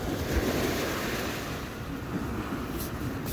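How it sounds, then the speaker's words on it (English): Surf washing in at high tide on a Southern California beach, a continuous broad roar of breaking waves with wind buffeting the microphone, no voices. "Water's coming in. Or it's high tide, I should say."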